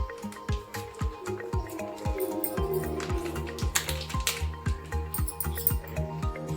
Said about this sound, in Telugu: ఇలా అన్ని ఇంగ్రీడియంట్స్ వేసుకొని ఇలా బాగా కలపెట్టాలి